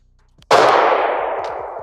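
A single loud, close pistol shot from a double-action Beretta or Taurus decocker pistol: a sharp crack followed by a long, ringing decay that trails off over more than a second.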